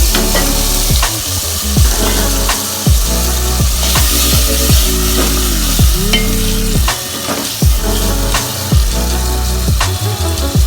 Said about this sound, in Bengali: জিরে এবং গরম মশলা দিয়ে আমি মাংসগুলো দিয়ে দিচ্ছি